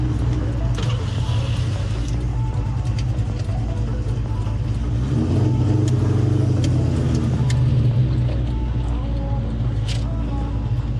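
A cammed Ford Terminator Cobra engine driving in heavy holiday traffic: a continuous low, lumpy rumble heard from inside the car, with slight swells as the throttle changes, steady throughout.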